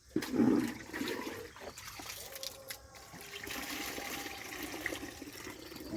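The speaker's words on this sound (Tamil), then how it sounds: "மஞ்சள் பயிருக்கு இலை வழியாகவும் வேர் வழியாகவும் தெளிக்க போகிறேன்" Herbal pest-repellent solution sprayed over a turmeric crop outdoors: a continuous close hissing, watery spray with a brief louder gush near the start, steady and unbroken throughout.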